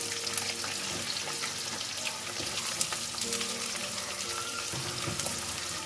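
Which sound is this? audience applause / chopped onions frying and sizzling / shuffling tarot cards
chopped onions frying and sizzling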